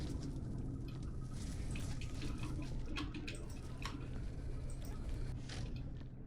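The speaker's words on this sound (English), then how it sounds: "Got all those squishy noises." Wet squishing and sloshing sounds with trickling water while cleaning gore in the game Viscera Cleanup Detail, a continuous low-level texture of squelches and drips without clear talk.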